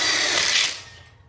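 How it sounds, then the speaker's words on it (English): A power driver briefly whirs as a screw fastens a connector plate onto the inner tube of a welded split bar kit for an outdoor kitchen, a close, loud buzz that winds down and stops within about a second. "Okay, we're gonna go ahead and screw that one on the inner tube"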